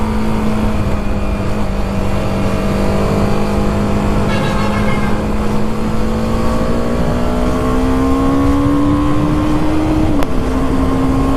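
BMW G310R motorcycle engine revving loudly while riding, a sustained droning tone that rises steadily in pitch before a brief drop near the end, up close and without talk.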